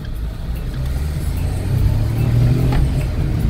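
A Renault Kwid's small three-cylinder engine accelerating during a test drive, a low, steady rumble that builds in a rising rev from inside the car.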